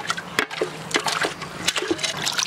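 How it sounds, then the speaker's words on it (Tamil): Cut pieces of fish rinsed in water in a village outdoor kitchen, close splashing and sloshing with irregular bursts as the pieces are washed by hand. "கட் பண்ணி வச்ச மீன் ரெண்டு தடவை கழுவி எடுத்துக்கலாம்"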